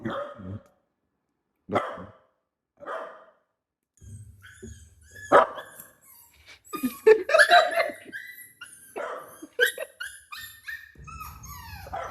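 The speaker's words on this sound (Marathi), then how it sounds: "काम कर, डॉग साऊंड लाव त्याच्यात" A pet dog barks repeatedly at close range, with sharp separate barks at first, then a busier stretch of barking and whimpering. Brief laughter is mixed in.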